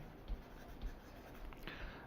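Chalk or marker writing on a board during a lecture, faint soft strokes and taps over a quiet room hiss.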